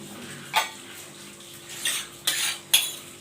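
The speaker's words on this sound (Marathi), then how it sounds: "आता जी भांडे निघाली चहाची वगैरे ती सगळी धुवून घेत आहे" Tea cups and pots clatter and clink while being scrubbed and washed in a home kitchen, with four sharp knocks spread across a steady background of water and rubbing.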